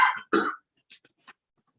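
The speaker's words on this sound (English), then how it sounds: "Take your mask off to cough" Two short coughs close together in a courtroom, followed by a few faint clicks and near silence.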